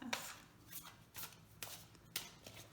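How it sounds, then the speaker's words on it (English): A tarot card deck being shuffled and split by hand, giving several soft riffling bursts spaced about half a second apart, quiet and close, with no talking. "Okay, I shuffled. I tend to split the deck."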